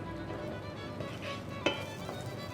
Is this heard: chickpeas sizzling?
yes